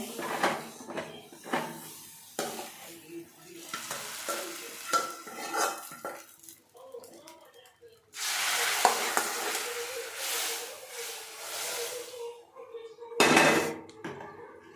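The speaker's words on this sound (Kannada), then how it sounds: "ಈಗ ಒಗ್ಗರಣೆ ರೆಡಿಯಾಗಿದೆ" Stirring and clinking of a pan with quiet sizzling, then a louder burst of hissing as tempering spices and garlic hit hot oil for radish lentil sambar, with a short sharp sizzle near the end.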